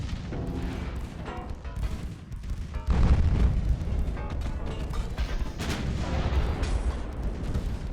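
Naval guns fire in the warship game Ultimate Admiral: Dreadnoughts, heavy booms and rumbling blasts overlapping in a dense, continuous barrage with distant impacts, loud throughout.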